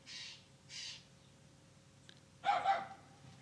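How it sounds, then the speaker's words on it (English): A bird and a dog calling excitedly outdoors: two harsh crow-like caws early on, then a louder pair of sharp barks or yelps near the end, with quiet gaps between. "Bird's excited, the dog's excited."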